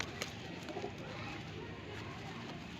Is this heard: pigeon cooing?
yes